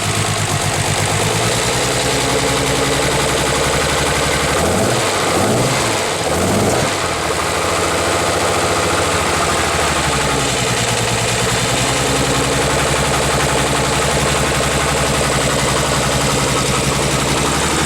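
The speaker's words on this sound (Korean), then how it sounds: "엔진 소리 먼저 들어보겠습니다." An Aston Martin DB6 classic sports car engine, recently overhauled, runs loud and close, idling with a rough, throbbing burble and a couple of brief revs in the middle.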